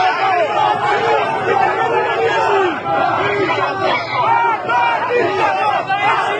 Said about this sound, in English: So now they're saying death to dictator, death to the dictator. That's the chant now.